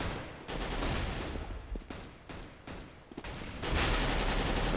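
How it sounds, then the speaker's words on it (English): Rapid bursts of gunfire from a CS:GO match on the Cache map trade back and forth, dense and loud, with short pauses between volleys and no talk over them. "So shots come out"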